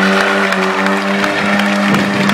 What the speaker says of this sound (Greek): Χειροκροτήστε τον